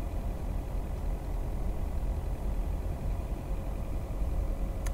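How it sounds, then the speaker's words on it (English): A steady engine drone runs constantly in the video game Lake, a low, even rumble with a faint hum, unchanging and without speech. "Seems to me it sounds like there's an engine constantly running in this game."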